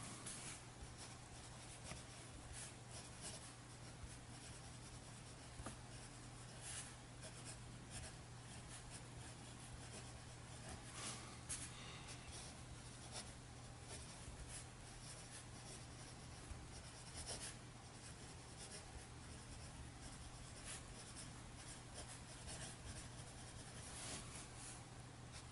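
Steel nib of a Kaweco Dia 2 fountain pen scratching steadily across paper, a faint, continuous close-up writing rustle with small stroke variations over a low constant hum.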